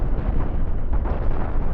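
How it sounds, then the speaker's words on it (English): Ion cannon fire and explosions in the space combat game Cosmoteer roar as a dense, continuous rumbling barrage, loud and steady with no distinct breaks between blasts. "expose them to the power of your ion cannons"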